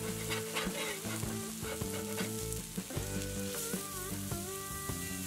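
Smashed beef burger patties sizzling on a grill while a crust forms, a loud, close, continuous sizzle under steady background music, with scattered pops and spatula scrapes.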